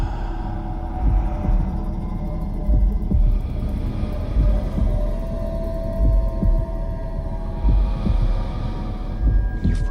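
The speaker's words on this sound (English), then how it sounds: "you hear the heartbeat" A steady, low throbbing heartbeat sound effect from a Hannibal episode pulses repeatedly under a dark, humming drone that fills the whole stretch.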